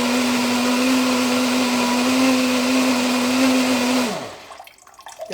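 A plant milk maker runs its cleaning cycle with a loud, steady motor whir and churning water for about four seconds, then spins down and falls nearly silent.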